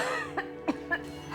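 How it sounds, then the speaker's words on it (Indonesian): A woman coughs suddenly in a few short, faint bursts spaced across a brief moment, close by and otherwise quiet. "Ibu tiba-tiba batuk."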